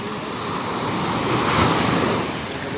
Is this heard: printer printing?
no